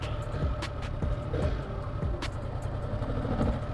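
A Yamaha R1 1000cc sport motorcycle ridden along, its engine revving with quick throttle blips and a continuous close-up drone, with brief clatter and wind noise over the top.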